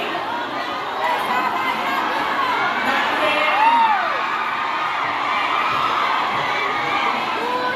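A rally crowd of supporters for the Vice President shouts and cheers together, a dense, loud roar of many voices with whoops rising and falling throughout.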